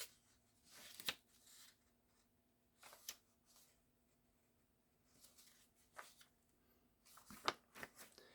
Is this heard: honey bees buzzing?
no